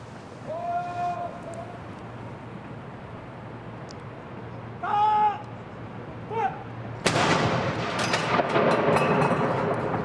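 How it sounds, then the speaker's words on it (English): Ceremonial royal gun salute with blank charges at Holyrood House in Edinburgh: a loud, booming blast arrives late with a long rumbling tail, after earlier stretches of crowd ambience with brief tonal calls and a voice speaking. "Now they're going to fire the guns."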